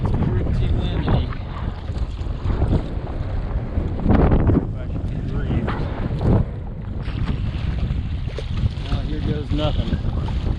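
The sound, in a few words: strong wind while sailing on Florida Bay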